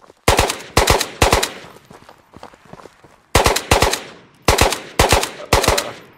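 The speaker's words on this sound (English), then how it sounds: "Fennec shooting to the left." Rapid bursts from a Fennec submachine gun in the VR shooter Ghost of Tabor: about six loud, close full-auto bursts in two clusters, separated by a quieter stretch of faint shuffling.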